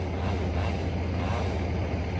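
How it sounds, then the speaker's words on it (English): A strong gust of wind buffeting outdoors during tree felling with a chainsaw, a loud continuous roar of broadband noise, steady and unbroken without talk. "And here's a gust."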